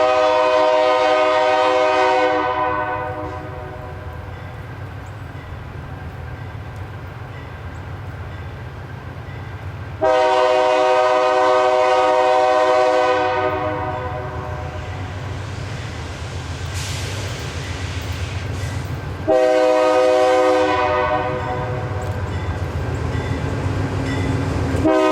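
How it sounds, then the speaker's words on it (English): A lashup of four GE locomotives on the Nashville & Eastern Railroad rounds a curve in Martha, Tennessee, sounding three long, loud horn blasts spaced about ten seconds apart over a steady, heavy diesel rumble. "spotting a pack of 4 GE-8s coming around the curve in Martha,"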